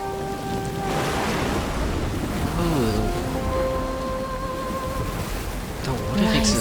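Rushing, surf-like water from flooding in the video game Honkai: Star Rail, a steady roar overlaid with ringing tonal game sounds and chimes, with no talk.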